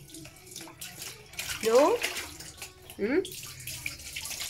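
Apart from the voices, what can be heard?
pouring water while bathing a pet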